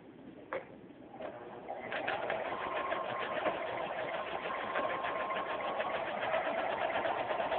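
A sewing machine stitches strips of fabric together. After a couple of soft knocks, a fast rhythmic whirring chatter starts and runs steadily to the end, close and fairly loud.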